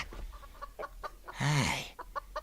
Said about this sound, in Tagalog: Sapay nagadot ti manok da dito'y parangan da.